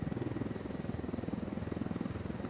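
Helicopter rotor in the video game Ghost Recon Wildlands, a steady rhythmic low thumping at moderate level that continues throughout, with no talking.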